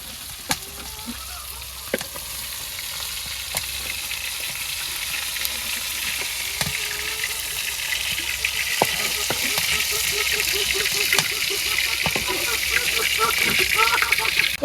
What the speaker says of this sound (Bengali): এই কড়াইতে মাছ ভুনিয়ে নেবো,